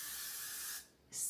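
Aerosol hairspray sprayed over hair in one long steady hiss lasting most of the moment, a short pause, then a second burst starting, close and loud with no talking.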